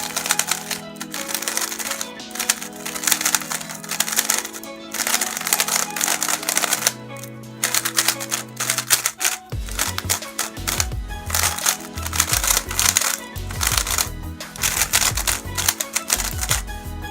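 A Gan 354 M speed cube with stickerless glossy plastic and magnets being turned, giving dense rapid clicky clacks in quick bursts, close and fairly loud, with no talking.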